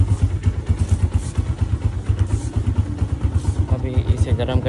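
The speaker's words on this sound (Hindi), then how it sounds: "गियर में स्टार्ट करिए ना क्लच पकड़ के" A motorcycle is started in gear with the clutch held, its engine idling with a close, loud, rapid pulsing throb throughout while a person talks over it.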